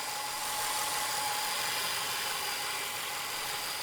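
A damaged 2007 Subaru Outback engine idles steadily, a constant close hum with no voices over it.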